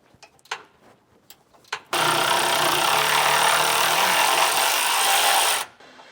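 A power wrench loosens sway bar hardware on a 2019 Ford F-53: after a few faint clicks, it runs in a loud, steady whir for nearly four seconds, then stops.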